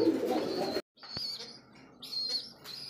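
Lakka fantail pigeons coo in short low bursts at close range, split by a brief silent gap, with faint flapping and chirping around them.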